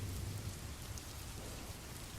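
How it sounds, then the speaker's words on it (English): Heavy rain pours steadily outside a cozy bakery, a dense, even hiss with a low rumble underneath, continuous and alone throughout. "The rain fell harder outside"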